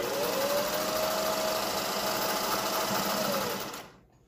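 A Singer 401A sewing machine runs a straight stitch with a steady, even mechanical whir for several seconds before winding down and stopping.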